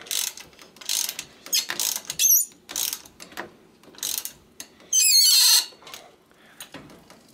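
Close ratchet wrench tightening a crank bolt on a bicycle square-taper crankset: bursts of rapid clicking pawl sounds in short strokes, with a few sharp metallic squeaks between them and no talking.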